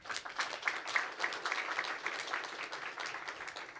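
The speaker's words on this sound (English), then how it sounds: "let's give a warm round of applause for the presenter again" An audience at a usable security and privacy symposium session applauds a presenter, a moderate spread of many hands clapping that holds steady for several seconds, slightly distant in a conference room.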